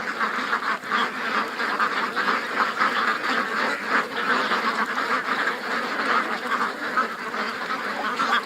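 A flock of ducks quacks continuously in a dense, overlapping chorus, loud and close, with no pauses across the whole stretch.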